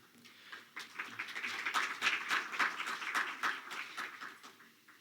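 An audience at a conference educational course applauds a speaker, a soft, distant patter of many hands that swells in the middle and fades again, with no talking over it.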